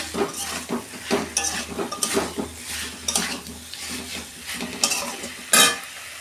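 Fish curry with potato, drumsticks and eggplant sautéing in a pan, with repeated close scraping stir strokes and clinks of the spoon over a soft sizzle, no talking.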